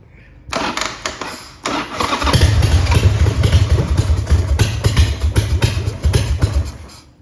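A 1999 Harley-Davidson Sportster 1200 engine cranks, catches and settles into a steady, throbbing idle with slight revving, loud and close.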